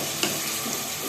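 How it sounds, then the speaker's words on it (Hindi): Sliced onion frying with curry leaves in a pot for kadhi pakora, a brief, steady sizzle with one small pop near the start. "प्याज को थोड़ा सा फ्राई करेंगे प्याज को, ताकि प्याज का कच्चापन खत्म हो जाए।"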